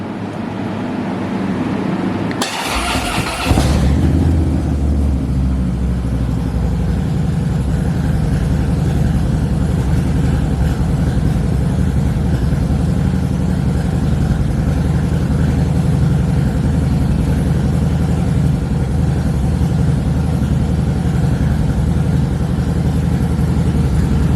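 A 2016 Harley-Davidson Softail Slim S with an SE 110 V-twin turns over and catches on a cold start after a brief silence, then settles into a loud, steady, lumpy idle close by, with no talk.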